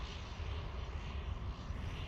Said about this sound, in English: that 767 looks like it is turning inbound to Boeing Field